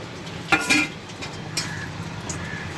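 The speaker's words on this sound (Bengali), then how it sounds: "ওই তেলের মধ্যে আমি ফোড়নগুলো দিয়ে দিচ্ছি।" Whole spices dropped into hot oil in a pan for a Bengali-style chicken dish give a soft, steady sizzle, with a few close metallic clinks of a utensil against the pan early on.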